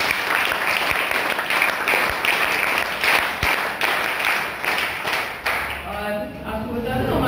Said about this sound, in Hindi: एक बार जोरदार तालियों से स्वागत करते हैं